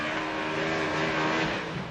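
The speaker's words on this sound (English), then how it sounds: "BC Racing, Mustang RTR Spec 5 FD on Nitto tires. Chelsea DeNofa coming down the hill" Ford Mustang RTR Spec 5 FD drift car on Nitto tires roaring downhill at a Formula Drift championship event, a loud, sustained engine howl close by, with no talking.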